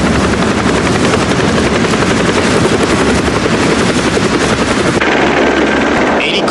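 A news helicopter hovers overhead during a flood rescue in a dramatic film, its rotor chop a loud, continuous rapid pulsing that fills the whole scene.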